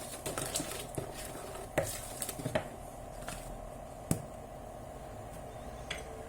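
Cocoa sponge cake batter being stirred in a bowl, with soft irregular scraping and a few sharper clinks of the utensil against the side, close and fairly quiet, no talking.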